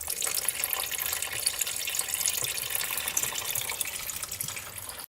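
Fluid drains from a worn-out ATV engine, a steady splashing gush of liquid falling into a container, loud and close, continuing unbroken before cutting off at the end.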